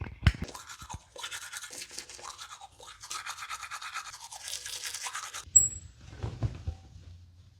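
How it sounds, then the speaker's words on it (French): Someone brushing their teeth with a toothbrush and toothpaste, close scrubbing strokes in uneven bursts with short pauses, followed near the end by softer low knocks and handling sounds. "Maintenant, je me lave les dents."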